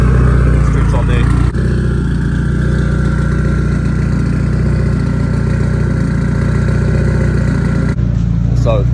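A turbocharged Nissan S13 with an SR20 engine runs steadily close by with a raspy, even idle, while someone talks over it.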